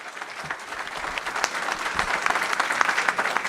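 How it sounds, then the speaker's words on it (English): Steady audience applause at a county candidate forum, many hands clapping continuously and growing slightly louder, with no voices. "Please give them a round of applause."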